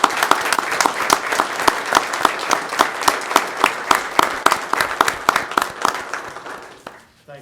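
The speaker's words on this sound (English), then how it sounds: "I think you deserve a round of applause" Audience applause at a county commission regular meeting, close individual claps forming a steady rhythmic patter that fades out in the final second.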